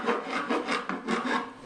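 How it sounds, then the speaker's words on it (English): Round rat tail file rasping back and forth to enlarge a hole for a goat waterer, several quick rough strokes close up with no talk. "this is a round rat tail file that I can use to enlarge the hole"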